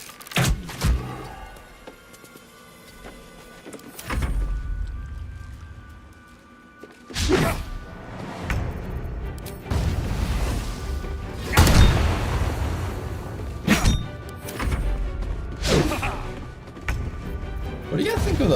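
Heavy flail strikes in Baldur's Gate 3 land as repeated deep thumps and booming hits, spaced irregularly through combat, with someone talking over the game audio.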